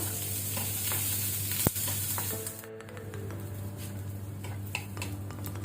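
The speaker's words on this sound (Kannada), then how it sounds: "ಅದರ ಜೊತೆನೆ ಗಾರ್ಲಿಕ್ ಬೆಳ್ಳುಳ್ಳಿ. ಇದನ್ನು ನಾವು ಕಲರ್ ಚೇಂಜ್ ಆಗೋ ತನಕ ಫ್ರೈ ಮಾಡ್ಕೊಳ್ಳುವ." Onion and garlic frying in a pan for a chicken gassi, a close continuous sizzle with stirring scrapes and a sharp clink near the start, no voices.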